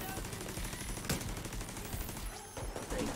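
Turret gunfire in the shooter game The Division 2: a dense, continuous stream of rapid automatic shots for about three seconds, loud and steady, with combat noise around it.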